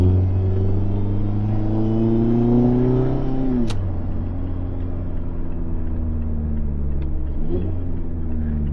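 A car engine drones steadily, its pitch climbing, then dropping sharply as it downshifts, and a quick rev blip follows before it settles into a lower steady hum, close and continuous with no talking.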